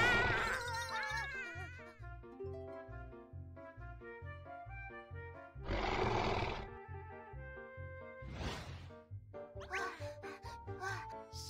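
Tyrannosaurus rex roars from a dinosaur learning video game, a faint deep growl followed by several bursts of roaring over light game music.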